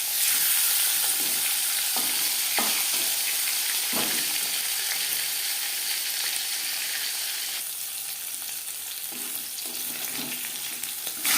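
Fish frying in a well-heated kadai for a spicy fish curry with onion shoots, a continuous close hiss of hot oil with scattered crackles and a few light scraping knocks, no talking.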